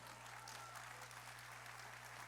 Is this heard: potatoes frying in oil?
no